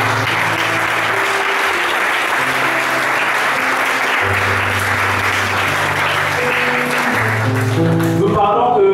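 A church congregation applauds the Lord in steady, dense clapping that lasts throughout, with sustained musical tones running underneath.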